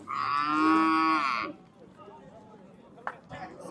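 At a cattle bazaar, a cow lets out one long, loud, close moo, followed by quieter market bustle with scattered knocks and people talking.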